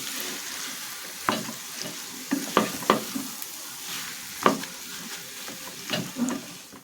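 Samosa vegetable filling with spices being stirred in a pan, a soft steady sizzle under repeated scraping strokes of a spoon against the metal, close and irregular.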